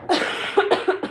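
A person gives a quick burst of several short, close coughs in rapid succession, loud and raspy, with no talking.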